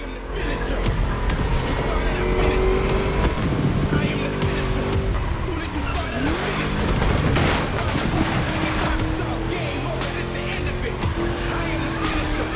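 A V8 muscle car roars through a lap in The Crew Motorfest, its deep engine droning steadily with rising and falling revs and tire squeal, while a voice talks over it.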